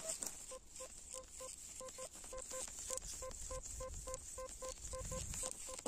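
Repeated short electronic beeps from a metal detector in a quick, uneven rhythm, two-tone pulses, over faint background noise.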